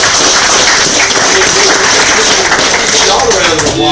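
A crowd at a kayak fishing tournament weigh-in on Lake Lanier, Georgia, applauds an angler: loud, continuous clapping that stays thick and even, with a voice starting to come through near the end.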